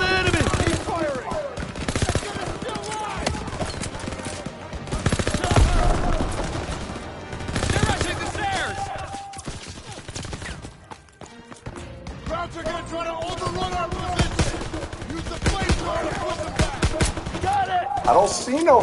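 Battle gunfire in Call of Duty: WW2, with machine-gun bursts and rifle shots crackling continuously amid explosions and shouted voices throughout, loud and chaotic.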